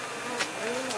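Honey bees buzzing at a hive being relocated, a close, steady droning hum with a single bee passing briefly louder.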